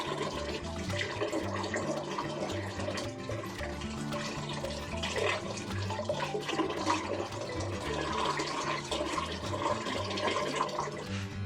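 Salted bitter gourds are washed under running water, making a constant splashing, rushing flow close by with some sloshing as they are handled. It runs steadily and loud from start to end.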